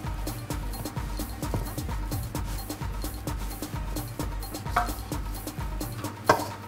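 Bread dough is stirred and mixed in a bowl for a Barbadian bake-off, with repeated soft slaps and scraping strokes in a quick, steady rhythm, quiet and close.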